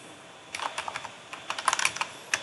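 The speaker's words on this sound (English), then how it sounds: "And here simply I'm going to type" Keys clatter on a computer keyboard in quick, irregular bursts of close, crisp taps, with short pauses between groups of strokes.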